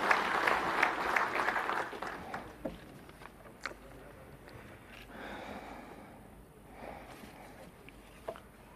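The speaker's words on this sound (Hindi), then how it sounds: "तालियों के साथ थैंक यू।" A crowd applauds at a foundation stone ceremony for national highway projects. A burst of clapping opens loudly, then thins into scattered claps and light crowd noise.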